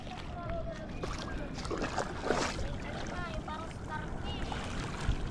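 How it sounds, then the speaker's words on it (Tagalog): Strong ocean waves on the Pacific shore at Bordeos, Quezon, make a continuous loud wash of churning surf, with faint chirpy sounds and distant voices mixed in. "Sobrang lakas ng alon yun, oh."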